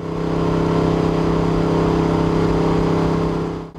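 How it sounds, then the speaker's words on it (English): A NASCAR stock car engine drones loud and steady on a banked track at about 100 mph, a continuous close-up roar with strong low harmonics that cuts off abruptly at the end. "let's listen to the engine for just 1 second."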